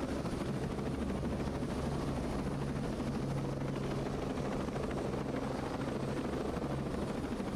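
Helicopter in the video game Ghost Recon Breakpoint: a loud, steady rotor and engine drone that runs unbroken throughout, with no talk over it.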